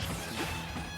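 In a Super Smash Bros tournament match, a forward smash attack lands with a sharp crashing hit, loud and close amid dense game sound and crowd noise, with no speech.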